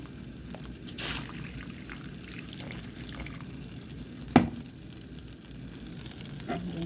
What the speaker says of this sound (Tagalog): Ayan, dagdagan natin ng tubig.